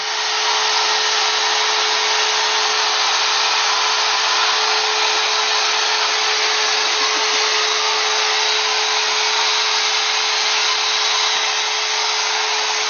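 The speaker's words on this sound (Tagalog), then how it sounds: "O yan, vacuum mo yung ibabaw na yan." A vacuum cleaner drones steadily at close range, a loud constant whine with a low hum running underneath throughout.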